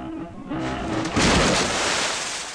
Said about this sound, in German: da ist die Brücke zusammengebrochen